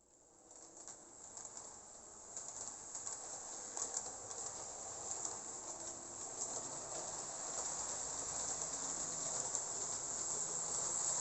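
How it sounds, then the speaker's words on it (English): A Lima HO scale FS E424 Bo'Bo' Italian electric model locomotive runs along the track, giving a steady whirring, rolling hum that slowly grows louder with no voices over it. "I'll just get this train going. Let's let the E424 speak and tell us its story"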